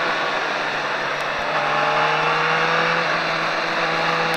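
A car on a race track holds a steady, loud engine drone with a slowly rising tone as it accelerates, continuous throughout without talk.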